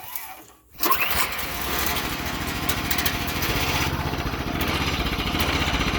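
A Sears Suburban lawn mower engine with no load sits at idle in neutral, catching after a short quiet start, then running with a steady, slightly uneven throb close by.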